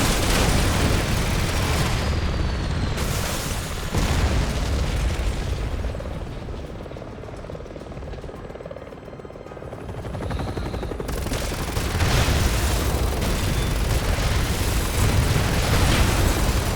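Missile explosions in Resident Evil 6 boom in heavy, continuous succession, loud and rumbling with a dense roar of blasts and gunfire, easing briefly midway before surging again.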